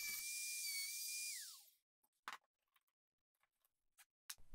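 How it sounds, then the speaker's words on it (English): Wood router after cutting a keyhole slot, a loud high whine that drops in pitch as it spins down and stops, followed by near silence with a few small clicks and taps. "turn it off and wait until the router comes to a full stop before pulling it out"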